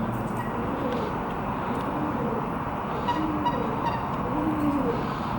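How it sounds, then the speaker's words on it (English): Birds call intermittently, faint and somewhat distant, beside the Leeds and Liverpool Canal near Liverpool, over a steady rumble of traffic or train noise. "What kind of bird made that noise then?"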